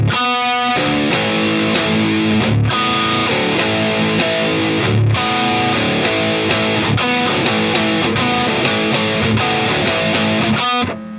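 Guitar picking pattern for a Korean song, played steadily and close with repeated plucked notes and chords over a full, effect-laden tone, briefly pausing a couple of times, no talking.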